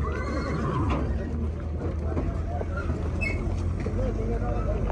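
Horses whinny and neigh amid a busy horse market in Jalal-Abad, with hooves clip-clopping and a steady crowd babble of voices throughout.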